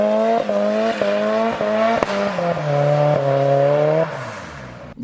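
Nissan 200SX drift car revs hard with engine notes climbing and dropping while tires squeal and skid, heard from a moderate distance with no talking.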